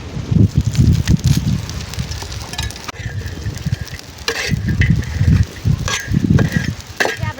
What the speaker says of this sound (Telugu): చేపలైతే బాగా వేగాయి.